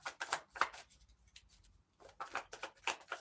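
Tarot cards shuffled and drawn by hand, a few quick papery bursts of riffling and slapping separated by a brief quiet gap, close and soft.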